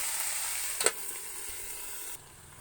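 A spinach curry with eggplant, peas, beans, cauliflower and kohlrabi sizzles softly in a pan, a faint continuous hiss with one brief clink partway through before the sizzle drops quieter near the end.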